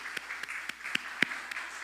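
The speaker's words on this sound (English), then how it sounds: "Could you please stand up and let us give us a clap for you?" Sparse, scattered clapping from a conference audience at a lung cancer screening event, a handful of distinct claps spaced out over a couple of seconds, moderately faint in a quiet room.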